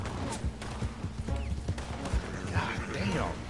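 Horse hooves clip-clop in uneven bursts in Red Dead Redemption Online, with faint whinnying mixed with game ambience and a voice speaking over it.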